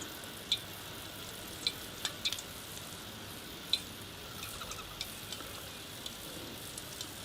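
Stuffed jalapeno bites lowered one at a time into hot frying oil over an outdoor fire, a steady soft sizzle and crackle with scattered sharp pops and spits, close by and fairly quiet.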